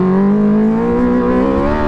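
Race car engine with a stuck throttle, holding a loud, sustained high rev with a strong steady drone that climbs slightly in pitch, heard up close and alone.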